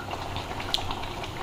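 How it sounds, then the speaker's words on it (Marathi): Fish curry (a spiced fish rassa) simmering in a pot on a gas stove gives a faint, steady bubbling hiss with one small pop near the middle, heard alone without talk. "आता मस्त 10-15 मिनटं शिजवते मच्छीला"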